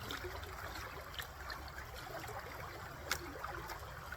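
Water trickles and washes steadily over a gold pan as fine mica and light material are rinsed out at a creek, a soft continuous flowing wash with a couple of brief clinks.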